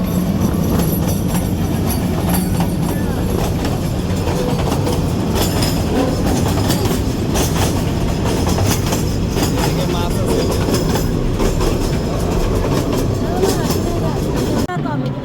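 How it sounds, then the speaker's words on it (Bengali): A train passes right beside a fish market on a railway line, with a loud continuous rumble and clatter of wheels while voices talk nearby. "ট্রেন আসতেছে"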